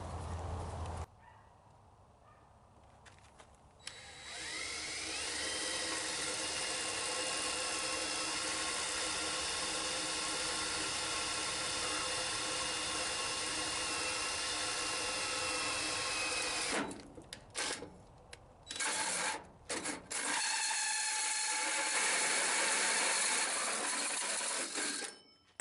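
Power drill driving a 4.5 inch hole saw through a 1978 Ford F-150 tailgate for taillight holes, a loud sustained whine and grind that runs steadily, then breaks into short stuttering bursts before spinning up again.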